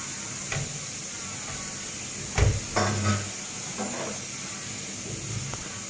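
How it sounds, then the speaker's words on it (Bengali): Onions drop into a preheated pan and sizzle with a soft steady hiss, broken by a few brief clatters and stirring knocks close by. "প্রথমে আমি পেঁয়াজ দিয়ে দিলাম।"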